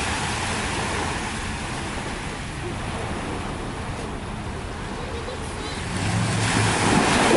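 Ocean waves wash steadily around a pier at night, a constant rushing surf with some wind noise, swelling slightly louder toward the end.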